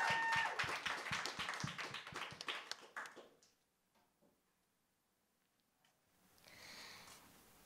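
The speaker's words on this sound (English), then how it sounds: "Let's give a round of applause to Helen." A small audience at a live music session gives a round of applause for a performer. Distinct, closely spaced hand claps ring out loudly at first, then thin out and fade within about three seconds into near silence with faint background noise.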